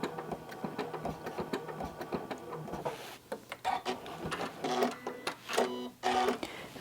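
A sewing machine stitches a circle on a quilt with rapid mechanical clatter in uneven bursts, running steadily at first and then breaking into short stop-start runs, up close.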